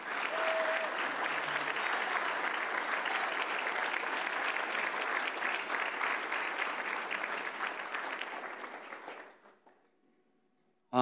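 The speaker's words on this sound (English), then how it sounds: "Let's give them a round of applause." Audience applause for coaches and assistant coaches at a college athletics awards event, a loud, sustained wash of many clapping hands that fades out near the end, followed by near silence.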